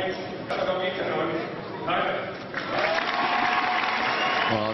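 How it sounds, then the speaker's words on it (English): Badminton crowd at the 2013 Swiss Open women's singles final cheering and applauding for Ratchanok Intanon, a loud, continuous roar with rising swells and some crowd voices throughout. "you can hear from the support that the crowd here desperately wants Ratchanok Intanon to do well here"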